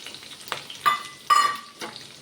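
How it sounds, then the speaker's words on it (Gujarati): Capsicum hitting hot oil in a frying pan for a mixed vegetable Punjabi curry, a few short sizzling bursts with scraping between them, close and clear with no talk. "ત્યારબાદ કેપ્સિકમ એડ કરીશું"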